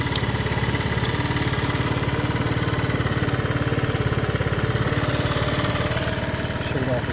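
A Lance Cabo scooter engine runs steadily, a loud close pulsing putter with an even rapid rhythm throughout.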